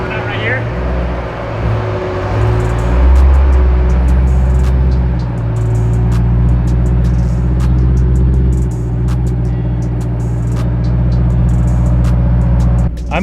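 A supercharged BMW E92 M3 engine runs at a steady, loud, deep idle close by, with a slight rise in revs, while people talk over it.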